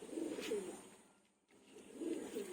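Soft, close pigeon coos come in two rounded bursts around a short pause, steady and alone with no talk over them.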